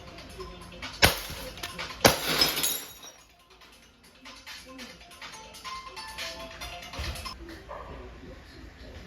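A Red Horse glass bottle struck by a steel BB from a CO2 airgun: two sharp impacts about a second apart, then bright shattering glass and scattered tinkling debris settling into a quieter room.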